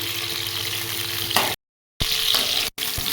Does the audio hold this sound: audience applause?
no